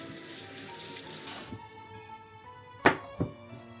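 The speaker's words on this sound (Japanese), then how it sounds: "リンゴは皮ごと使うのでよく洗います。" Water runs from a kitchen tap while apples are washed at the sink, a steady flow that stops partway, followed by two soft thunks as fruit is handled.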